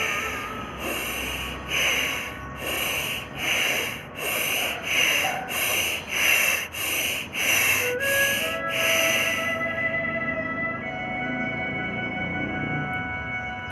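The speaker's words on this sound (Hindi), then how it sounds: "इसमें दोनों आवाज़ें श्वास भरने की आएंगी। जिस गति से श्वास को भरना है उसी गति से श्वास को खाली करना है।" Forceful pranayama breathing with rapid, equal-speed inhales and exhales: about a dozen sharp, rhythmic nasal breath bursts close to the mic, followed by a quieter sustained tone and room hum.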